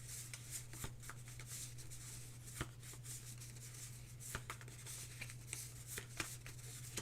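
A deck of game cards is shuffled by hand, with a quiet steady riffling and a string of small sharp snaps throughout, close and alone with no talk.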